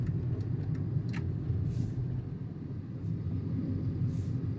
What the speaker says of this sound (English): There's always a lot of traffic.